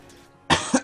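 A person with a lingering cough gives a short, close, harsh cough followed by a quick second hack, abrupt and loud after a quiet moment.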